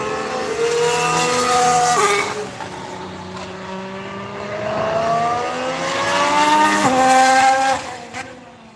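Formula One cars with Renault and Honda power units screaming past on throttle at a test session, loud high-pitched engines rising through the gears with sharp upshifts, two passes close by before fading.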